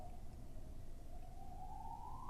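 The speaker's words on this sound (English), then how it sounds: "Now there's a siren." A siren wails far off, faint and thin, slowly rising in pitch above a low steady background rumble.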